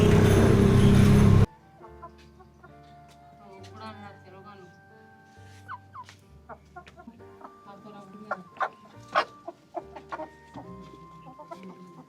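Eight hens and a rooster in a backyard coop at night: a burst of loud noise opens, then scattered clucks and short squawks follow at close range, growing busier toward the end over a low steady hum.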